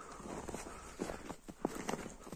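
Horse hooves clopping softly on the ground, a few uneven, faint steps at moderate distance from a horse kept in a herd, with steady outdoor background noise and no talking.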